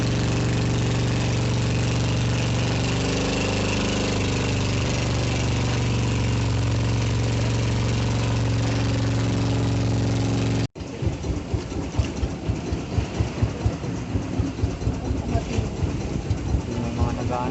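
A loud boat motor drones steadily up close on a ride between islands at Hundred Islands, Alaminos, Pangasinan, then after a brief cut continues with a rougher, rhythmic chugging.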